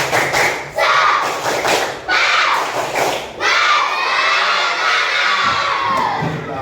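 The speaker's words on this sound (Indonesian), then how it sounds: "1, 2, 3, tepuk semangat." Elementary schoolchildren in a classroom perform a rhythmic clapping chant, with bursts of loud claps and shouted voices in several quick phrases ending in a long collective cheer.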